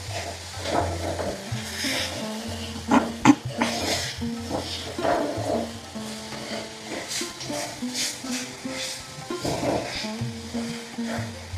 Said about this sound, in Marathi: आता व्यवस्थित छान असं गूळ यामध्ये मिक्स होईपर्यंत वितळेपर्यंत परतून